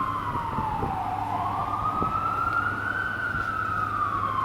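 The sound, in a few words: emergency vehicle siren in New York street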